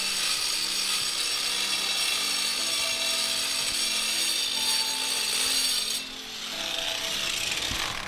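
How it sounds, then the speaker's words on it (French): An angle grinder cutting the corners of old exterior render on a house wall gives a loud, continuous, high-pitched whine with a steady grinding roar, close by, briefly dipping before resuming. "Donc je commence par tronçonner les angles à la disqueuse pour ne pas éclater les parties que je ne désire pas refaire."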